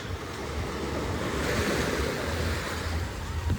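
Rough sea surf crashes and churns continuously on a Greek shore, a dense, fairly faint roar with wind buffeting the microphone.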